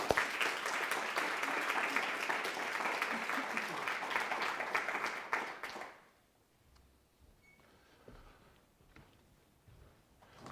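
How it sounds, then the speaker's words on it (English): Audience applause for two award winners at a university alumni awards evening, steady clapping for about six seconds that then cuts off into near silence with faint room noise. "a round of applause for our two winners of the award tonight"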